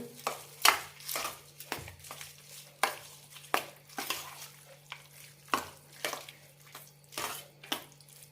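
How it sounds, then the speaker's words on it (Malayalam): Curd semiya is stirred and mixed in a pot, a spoon making rhythmic wet scrapes and clinks against the sides, about a dozen close, regular strokes over a low steady hum. "നന്നായി മിക്സ് ചെയ്യാം"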